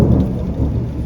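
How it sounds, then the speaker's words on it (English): Loud, rumbling thunder from a morning thunderstorm in Spain fills the short stretch, with rain noise mixed in and no voices. "There is the maddest thunder and lightning at the moment."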